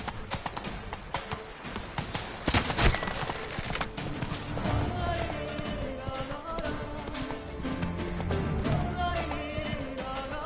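A horse gallops in The Witcher 3, its steady clip-clop of hooves running under game music and ambience, with a voice calling out briefly partway through.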